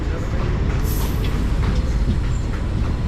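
Inside a general coach of the Chennai Egmore–Mangaluru Express, a loud, steady rumble of the running train fills the carriage, with faint rattles over the constant roar.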